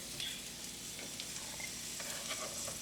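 Yellow onions sizzle in a hot pan, a soft steady crackle with light stirring clicks, close but fairly quiet and without talk.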